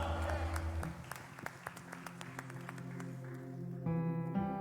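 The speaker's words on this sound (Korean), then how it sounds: "하나님 앞에 우리 감사와 영광의 박수 올려드리겠습니다." A church congregation at a Sunday worship service gives rapid, steady applause. The crowd clapping sounds close and sustained over held instrumental music tones, with a brief musical swell near the end.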